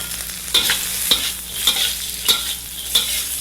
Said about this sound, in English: Let's stir fry our little carrots.